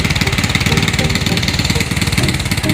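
A motorcycle engine with a newly replaced stator and muffler runs at a steady idle, a loud close rhythmic putter throughout, no talk.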